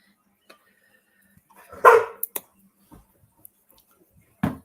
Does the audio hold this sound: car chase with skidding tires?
no